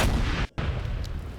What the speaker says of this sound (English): Second missile away.